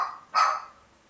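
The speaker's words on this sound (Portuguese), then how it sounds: "não sei o que essa cachorra tem, não, acho que ela tá com problema" A female dog gives a single short bark, sharp and fairly close, against a quiet background.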